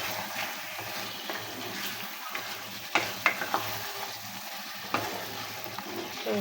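Country chicken meat stirred and fried with spices in a pot, a soft bubbling sizzle broken by several sharp metallic spatula knocks and scrapes, fairly quiet and close, with no talk.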